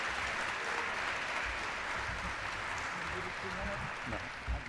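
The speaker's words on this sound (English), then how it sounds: "Another nice round of applause" Crowd applause at a high school hall of fame induction ceremony honoring a 1937 state championship basketball team, sustained clapping filling the hall with a few louder low thumps mixed in.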